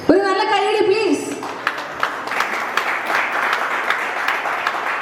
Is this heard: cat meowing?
no